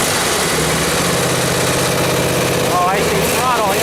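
Zero-turn mower engine idling after a restart, a loud close steady rumble with even pulsing, with brief faint whistly tones near the end.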